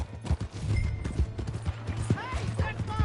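Horse hooves clip-clop in the Red Dead Redemption 2 video game, a quick uneven trot of close, sharp hoof strikes, with a horse whinny near the end and people talking and shouting over it.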